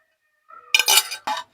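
Chow mein noodles tossed with spring onion in a pan, a quiet lead-in followed by a short clatter of utensil scraping and clinking against the pan in two quick bursts.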